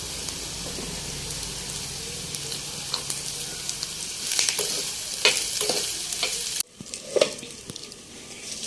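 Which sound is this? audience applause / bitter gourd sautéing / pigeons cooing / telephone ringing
bitter gourd sautéing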